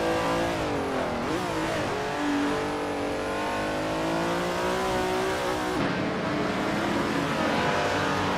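A vintage 1970 Chevrolet Camaro racing engine roars steadily at high revs, pitch climbing and dipping through gear changes, loud and close, with no voices.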